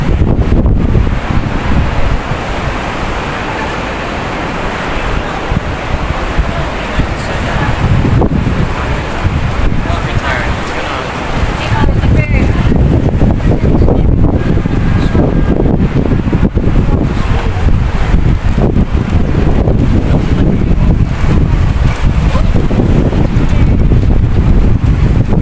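Strong wind buffeting a phone microphone outdoors in front of IFC Mall, a constant loud roaring rumble with gusts that swell and ease, briefly dropping around the middle before blowing hard again.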